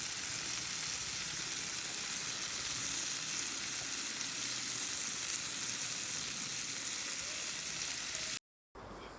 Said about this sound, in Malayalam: അടുത്ത ഭാഗം അതായത് നെക്സ്റ്റ് സൈഡും കൂടി നമുക്ക് പൊരിച്ചെടുത്തിട്ട് നമുക്ക് സ്റ്റൗ ഓഫ് ചെയ്യാം